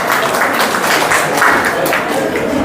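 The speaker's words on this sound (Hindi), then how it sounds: "ताली बजा दीजिए।" A quiz class audience breaks into brief, steady applause that fills the room, with scattered voices mixed into the clapping.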